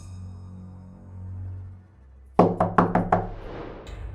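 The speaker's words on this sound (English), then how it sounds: "as soon as Arthur heard the knock, he jumped off his chair and opened the door in seconds" Several sharp knocks on a wooden door in an animated Christmas story, a quick burst of about five raps following a low rumble, loud and close.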